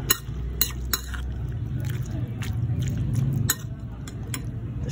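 Kilawing pork stirred in a pot, with sharp metal clinks of a utensil against the pot at irregular moments over a soft sizzling, shuffling background, close and moderately quiet.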